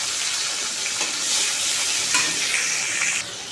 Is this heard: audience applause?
no